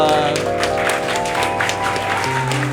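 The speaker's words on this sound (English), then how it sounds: "Everyone, round of applause." Steady applause fills the space alongside sustained music tones, with a crowd clapping continuously at moderate loudness.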